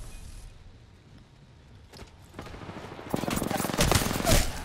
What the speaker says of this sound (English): he really just was shooting before I even came around the corner